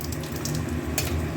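Whole spices (cumin, cardamom, cinnamon, cloves, dried red chilli) frying in hot oil for a coconut chana dal: a continuous close sizzle with soft crackling, no talk.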